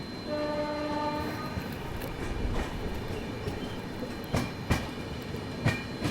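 An Indian express train travelling from Kolkata sounds a steady horn, then rumbles and clatters past an empty Humsafar Express rake, with sharp wheel clicks over rail joints punctuating the continuous rolling noise.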